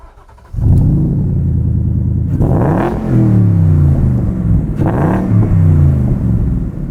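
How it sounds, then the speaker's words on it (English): A 2024 Shelby Cobra CSX10000 engine starts and revs loudly up close, a deep rumbling idle broken by two sharp throttle blips that rise and fall. "Not that you'd hear it anyway, because the engine is very loud. Listen to this."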